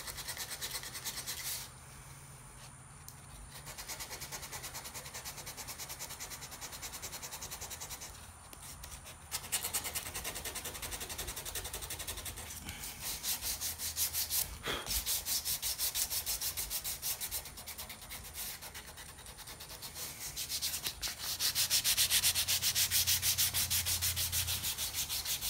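Continuous hand sanding of metal rivets on a knife, a steady abrasive rubbing that pauses briefly a few times and picks up again, close and fairly loud.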